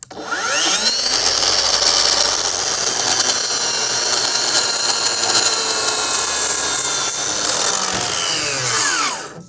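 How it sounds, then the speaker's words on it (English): A power saw fitted with a blade for deck building makes a compound miter cut. It runs as one loud, steady whine for about nine seconds, spinning up at the start and winding down at the end, with no talking. "for the final cut, we're doing a compound miter cut, the same cut we made with the other blade."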